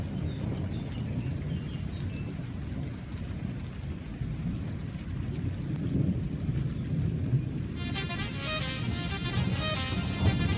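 A thunderstorm approaches over a mountain village, bringing low continuous rumbling and rain hiss, then a higher bird-like chirping layer near the end, all at moderate distance.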